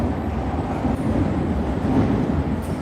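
A subway train rumbles steadily through an underground station, a low continuous rolling roar with faint metallic rattle, moderately loud and without talk.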